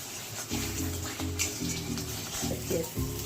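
Spiced masala sizzling and frying in a pan as water is poured in for a fish egg curry, giving a steady hiss and bubbling with rhythmic stirring or clinking throughout.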